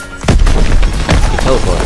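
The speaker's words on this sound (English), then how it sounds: "Enemy bomb incoming, get to cover!" A bomb blast in the World War II shooter Call of Duty WWII lands with a heavy, loud boom and then keeps rumbling in a dense, crashing roll of battle noise. A voice talks over it.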